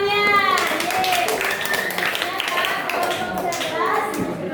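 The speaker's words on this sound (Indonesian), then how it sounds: "tepuk tangan dong untuk temannya" Eighth-grade students in a social studies class clap for their classmates. Scattered clapping sounds through a noisy classroom, with children's cheering and chatter layered over it and a teacher's voice close by.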